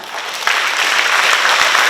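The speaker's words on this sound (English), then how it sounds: "let us give them a well-deserved round of applause" Audience at an Education Day 2025 school event breaks into a loud, steady round of applause, dense clapping sustained throughout with no talk over it.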